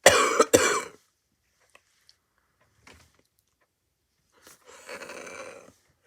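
Congested coughing and throat clearing: two sharp, loud bursts right at the start, a few faint rustles in a long quiet stretch, then a rougher, rattling throat-clearing spell near the end.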